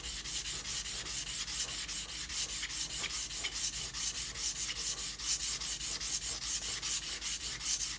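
A Shun Kai Japanese knife is sharpened on a Kasumi whetstone in steady back-and-forth strokes, roughly three per second, a close, loud, even abrasive rasp with no voices.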